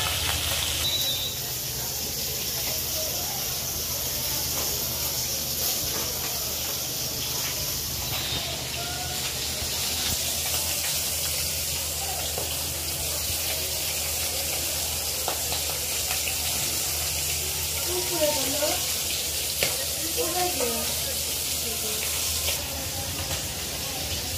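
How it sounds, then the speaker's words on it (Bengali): Fish bones sizzle steadily in hot oil for the whole stretch, a dense, even hiss with faint crackles, close and continuous with no talk. "তেলের মধ্যে মাছ কাঁটাগুলো ছেড়ে দিয়েছি"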